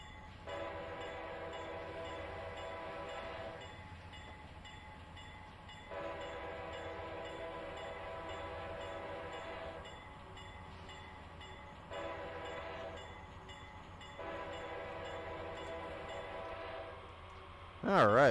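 A Dash 8 locomotive horn sounds at a whistle post on the Pacific Surfliner route in Train Simulator 2021: two long blasts, a short one and a final long one over a low engine rumble.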